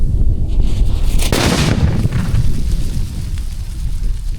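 A homemade country firecracker set off under a pressure cooker bursts in one sharp, loud blast, followed by a rumbling echo that fades into ongoing outdoor noise.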